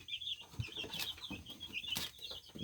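Brahma chicks cheeping and peeping softly and continuously in a brooder, with light rustling and a couple of louder chirps, fairly quiet.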